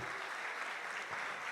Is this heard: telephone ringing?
no